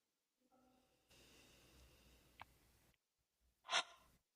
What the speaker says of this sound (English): So do another deep sniff through your nose, feeling the top area open up.